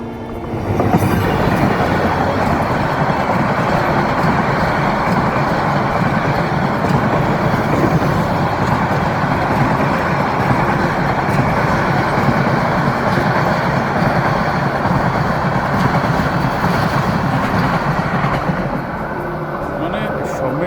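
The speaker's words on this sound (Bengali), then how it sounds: "ট্রেন যাচ্ছে এক পাশ দিয়ে" A train rolls past beside a lake, a loud, steady rumble of wheels and wagons close by that holds for the whole stretch, with faint voices in the background.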